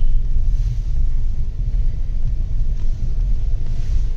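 Car driving a foggy, near-zero-visibility mountain road on the Tinchule to Darjeeling route, heard from inside: a continuous low engine and road rumble, steady and close, with slight swells and no talk.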